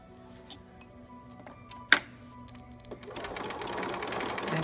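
A sewing machine zigzag stitches velcro onto a tiny preemie shirt, starting with sparse clicks and a sharp tick, then breaking into a steady close whirring run of stitches.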